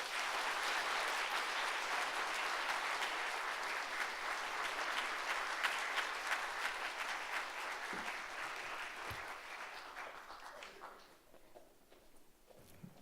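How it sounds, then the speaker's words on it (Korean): A church congregation applauds during an evening worship service, a full, sustained round of clapping from many people that gradually thins and fades out near the end. "자, 우리 박수 한번 하겠습니다."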